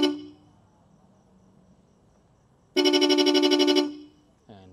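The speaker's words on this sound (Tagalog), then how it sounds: "Ayan o, rapid horn." A rapid horn fitted to an ADV 160 motorcycle sounds once in a loud, close, pulsing burst of about a second, after quiet moments with a brief tone at the start, and a voice comes in right at the end.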